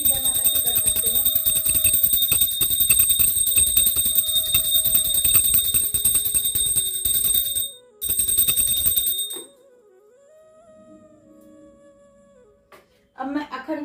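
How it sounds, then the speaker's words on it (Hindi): A hand bell rung repeatedly at a Navratri puja, a steady continuous ringing held for several seconds, then a pause with a faint voice, and a brief return of ringing at the end. "सबसे पहले घंटी बजाकर ही सबको जगाएंगे"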